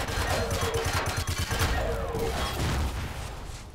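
A turret fires in Empyrion: Reforged Eden, giving a rapid, continuous stream of loud, close shots with mechanical clatter that tapers off toward the end.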